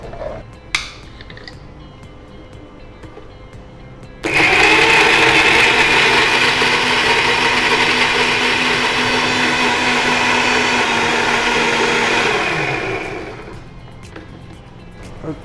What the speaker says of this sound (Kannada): ಇದನ್ನು ಈಗ ಮಿಕ್ಸಿ ಮಾಡಿಕೊಡ್ಬೇಕಲ್ಲ?